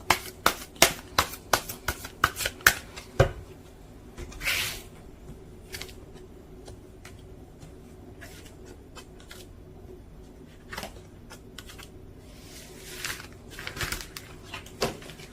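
Tarot cards being shuffled and handled: a quick run of crisp, close snaps and flicks at the start, then softer riffling bursts spread through a quiet room, with no one speaking.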